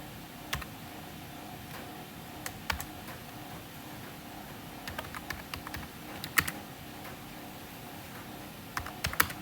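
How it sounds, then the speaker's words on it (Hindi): Typing on a computer keyboard during a Python programming lecture, with scattered bursts of key clicks at a steady, moderate pace and occasional louder taps over a quiet room background. "चलो कोई नहीं, हम लोग टाइप करेंगे."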